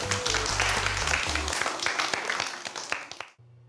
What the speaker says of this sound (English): Let's give yourselves a clap.